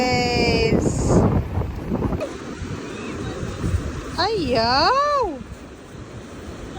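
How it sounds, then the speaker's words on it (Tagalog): Big ocean waves rolling in on a New Zealand coast near Auckland, a broad wash of surf and wind buffeting the microphone, with people talking and exclaiming over it. "Big waves."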